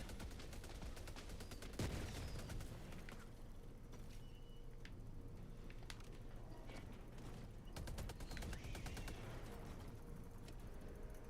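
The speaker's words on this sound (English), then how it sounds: "Deploying sentry." A deployed sentry turret in the video game Helldivers 2 keeps up a dense, continuous rattle of gunfire with mechanical clanks layered over a loud battle.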